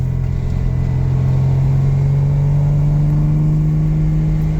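A Jeep Comanche fitted with a swapped Vortec 4200 inline-six revs hard, its loud, close engine note climbing steadily in pitch over a deep rumbling exhaust, with no voices.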